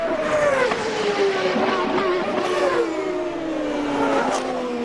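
A CART race car heads out on track during Friday qualifying at the 2002 Grand Prix Americas in Miami, its loud, high engine whine sliding steadily down in pitch as it pulls away, with no voices.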